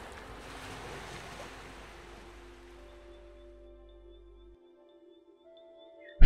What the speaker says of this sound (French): Ressentez l'agréable bercement des vagues légères.